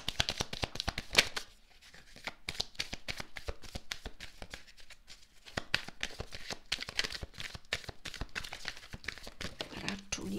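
Tarot cards being shuffled by hand, a steady run of quick papery riffles and flicks, close and fairly soft, continuing alone with no talk over them.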